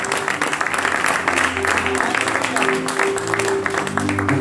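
A church congregation applauds a sister during a service, with dense continuous clapping over a sustained organ or keyboard tone and a crowd murmuring underneath.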